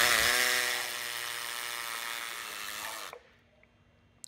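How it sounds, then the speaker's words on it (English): A power drill bores an anchor hole, whining loudly for about three seconds before stopping, followed by faint clicks and handling noises; no one talks. "and start drilling."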